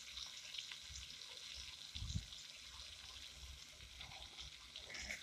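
Pork chops fry in a pan with a steady low sizzle and crackle throughout, and one brief louder burst of spitting grease partway through.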